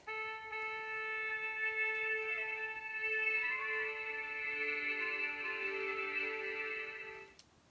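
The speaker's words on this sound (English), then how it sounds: "Before they start, everyone tunes up to get ready." Sustained tones of many instruments overlap as an orchestra tunes up, long held pitches with a few sliding notes, moderately quiet, ending abruptly; no talking.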